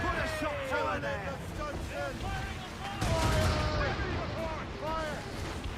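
Cannon fire from a gunboat booms amid battle noise. Heavy thuds land under shouting voices, and a stronger low blast rolls in midway while the voices carry on over it.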